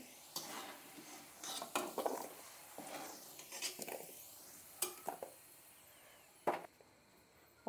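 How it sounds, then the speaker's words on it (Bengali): Potatoes fried until reddish-brown being lifted from oil in a pan with a metal utensil, giving scattered scraping and clinking taps against the pan over a faint sizzle, with no talking. "আলু কটা বেশ লাল লাল করে আমি ভেজে নিয়েছি, এখন তুলে নিচ্ছি।"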